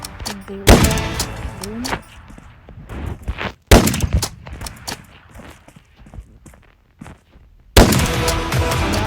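Roblox game gunfire, sharp loud shots in separate bursts spread across the stretch, with quieter footsteps and game noise between them.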